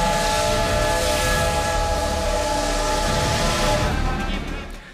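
Steam locomotive whistle at a steam locomotive parade in Olsztyn, a loud sustained tonal blast with hissing steam, held for several seconds before fading at the end.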